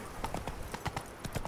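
Horse hooves clip-clopping in a steady galloping rhythm from The Witcher 3: Wild Hunt – Hearts of Stone on an evening ride, close and clear, with a faint voice underneath.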